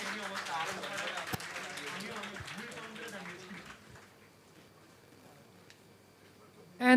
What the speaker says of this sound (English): Round of applause. They should get the loudest cheer.